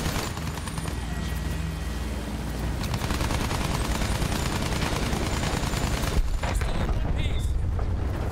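Battlefield 1 combat gunfire: a dense, continuous barrage of rapid shots and booming blasts fills the whole stretch, loud and steady, with a voice talking faintly underneath.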